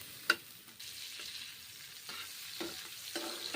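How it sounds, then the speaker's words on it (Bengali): Pieces of pointed gourd fry in mustard oil with a soft, steady sizzle, broken by a sharp clink and several scraping stirs of a spatula in the pan, quiet and close. "বেশ ভালো করে পটলগুলো এখন আমি ভেজে নেব"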